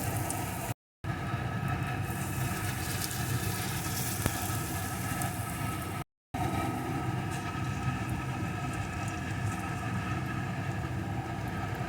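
Pumpkin fritters fry in hot oil on a low gas flame, giving a steady, dense sizzle with a low rumbling bed that runs throughout, broken by two brief dropouts.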